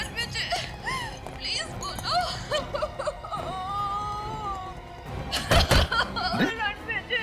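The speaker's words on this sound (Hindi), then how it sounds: "ये तो रोने की आवाज है।" A person cries and wails in a house during a Hindi crime drama, with wavering sobs under talk and background noise, followed by a louder burst near the end.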